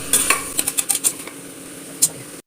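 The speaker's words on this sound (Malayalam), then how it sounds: "ആവശ്യത്തിനുള്ള ഉപ്പ് ചേർക്കാം നന്നായി വഴറ്റിയെടുക്കാം" Spiced ingredients for sambar rice stirred in a cooker, with a quick run of metallic spoon scrapes and clinks against the pot over a light sizzle, then one more clink after a pause, close and clear.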